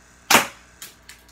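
A BB gun fires a single sharp shot at close range, aimed at a mini basketball hoop, followed by two fainter clicks or impacts about half a second apart.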